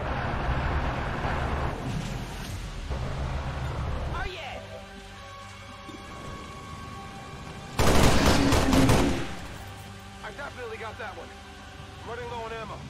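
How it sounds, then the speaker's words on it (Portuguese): A gunshot in the video game XCOM 2 goes off as a loud, brief burst partway through, surrounded by game sounds and someone talking excitedly. "O tiro foi tão foda que até apagou o fogo"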